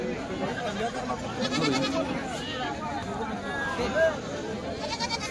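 Goats bleat repeatedly at a busy goat market in Dhule, with several nearby calls rising over a constant crowd murmur while people talk close by.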